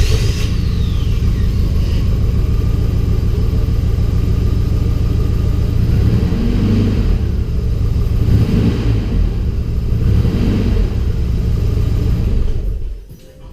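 Nissan 240SX engine with a bad fuel injector on its number one cylinder runs steadily close by, a dense, loud idle rumble with slight unevenness that cuts off at the end.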